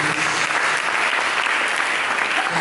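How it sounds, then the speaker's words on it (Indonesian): A church congregation claps loudly and steadily, a dense wash of applause that fills the whole short stretch without a break. "Berikan tepuk tangan kepada Yesus."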